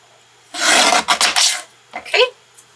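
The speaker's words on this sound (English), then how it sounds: "I need to trim this down so it'll fit in my die cutting machine" Blade or trimmer cutting cardstock for a handmade greeting card: a long rasping slice followed by a shorter second scrape, close and fairly loud, with no voices.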